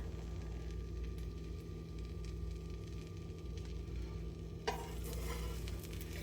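A chicken quesadilla sizzles steadily in a pan, with continuous close frying hiss throughout and a brief clatter near the end.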